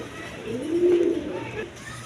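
Pigeons kept for sale give a single drawn-out coo close by over a low steady background hum.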